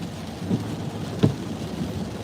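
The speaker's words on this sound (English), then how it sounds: "It's raining bad here." Heavy rain falls outdoors on a shale and rock site, a steady dense hiss with a brief louder splash or thump partway through, no voices present.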